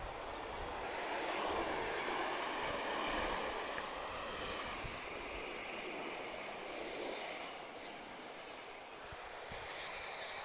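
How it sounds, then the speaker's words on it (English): A Vueling passenger jet arrives at Lisbon Airport with a broad, steady engine roar that swells and eases slightly, heard from a distance with no talking. "A bit of a spirited arrival there from Vueling"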